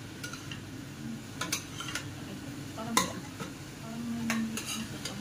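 Beans are being stirred and cooked in a pan, with a low sizzle underneath scattered sharp scrapes and clinks of a utensil against the pan at irregular intervals.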